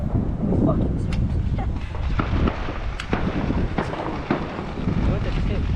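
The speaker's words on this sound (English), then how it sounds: "It's too windy." Outdoor wind gusts rumble steadily across the microphone during a Fourth of July fireworks attempt, a continuous blustery roar with scattered sharp crackles and people talking throughout.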